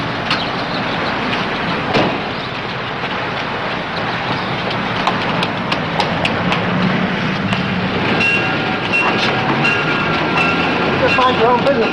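A train rumbles and clatters past at fairly close range, steady and loud throughout, with intermittent metallic clicks and a faint tonal squeal near the end.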